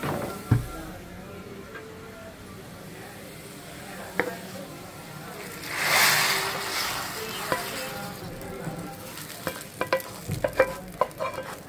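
Fried onion tempering with cumin and garlic is tipped into a pot of sour lentils and stirred: a swell of sizzle midway, then scattered spoon knocks and scraping, with faint voices in the background.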